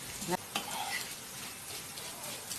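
Vermicelli frying in a pan alongside browning onions for lentil soup, a soft steady sizzle with a few clinks of a stirring utensil against the pan near the start.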